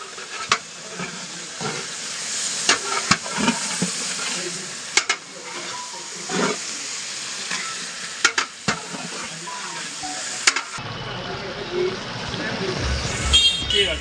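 Chicken frying with onions in a hot pan, a steady loud sizzle broken by scraping stirs and clatters, ending in a duller, quieter hiss.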